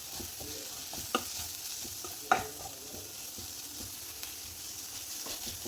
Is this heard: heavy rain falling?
no